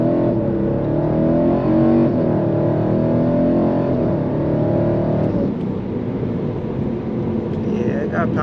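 A BMW E92 M3 launched hard from a traffic light, its engine note climbing loudly and continuously from inside the car, with a brief dip around a gear change.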